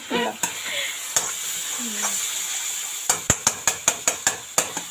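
Chilli and turmeric powder fry softly in a pan of hot oil, a faint sizzle under light stirring, followed by a run of sharp, rhythmic metal spoon taps against the pan.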